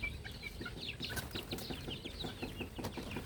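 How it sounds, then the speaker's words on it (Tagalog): A young white Kelso chick clucks and peeps in quick, overlapping bursts, close by, with other farm birds chattering around it in hot weather. "Ito na yung aking white kelso na sisiw."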